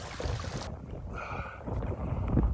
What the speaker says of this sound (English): I don't know how much of this you'll get in the wind